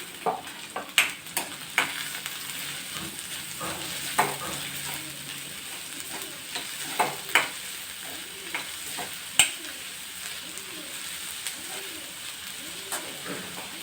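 Chopped green onion and green garlic fry in a pan for Kathiyawadi khichdi, producing a soft continuous sizzle broken by sharp spatula clicks and scrapes, with faint bird calls in the background.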